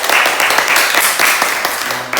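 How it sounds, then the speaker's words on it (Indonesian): Classroom clapping during a microteaching practice lesson, a short burst of many hands clapping loudly and close by for about two seconds. "Coba tepuk tangan."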